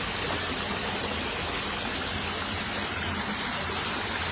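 Water of a flowing mountain stream rushes steadily and loudly, a continuous broadband gush with no pauses.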